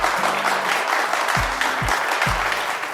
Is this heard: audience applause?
yes